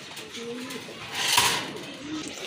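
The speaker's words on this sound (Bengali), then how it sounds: "এটা কিন্তু মাশাল্লাহ রানিং কবুতর" Running pigeons give soft, low coos at close range, with a brief clatter midway and faint background noise.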